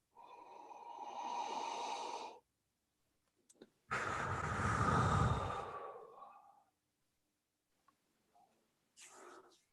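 Two long, close breaths drawn in through cupped hands after rubbing spray between the palms, each a soft airy inhale lasting a couple of seconds, with faint rustling and a short final sniff.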